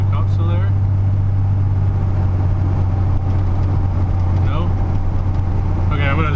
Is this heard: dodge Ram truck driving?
yes